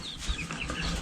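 A coop of chickens, including nine recently hatched birds, clucks and chatters in short overlapping calls, close and fairly loud, with a low bump partway through and no voices.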